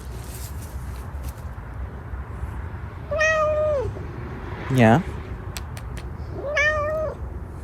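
A cat meows in two clear, drawn-out calls a few seconds apart, close and fairly loud, with a sharper rising squeak between them and a brief spoken word nearby.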